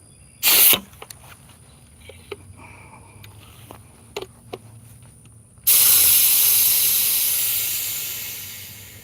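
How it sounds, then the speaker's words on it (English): Pressure released from a garden sprayer: a steady, loud hiss that starts abruptly and slowly fades, after a brief sharp burst and a few small clicks. "Let's release this pressure."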